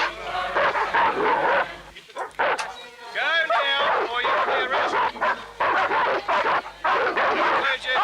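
Police dogs bark and yip in short bursts at protesters amid shouting and tense talk, the barks loud and near, interleaved with voices throughout.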